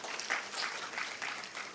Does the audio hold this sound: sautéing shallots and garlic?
no